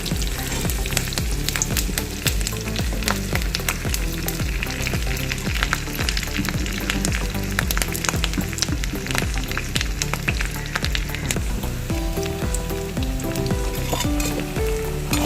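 Shallots and dried red chillies fry in coconut oil with mustard seeds for a mango prawn curry: a loud, steady close-up sizzle with stirring clatter throughout, and a faint melodic tone joining near the end.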